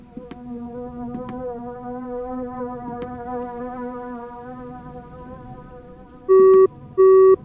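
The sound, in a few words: phone save sound from the video game Insomnis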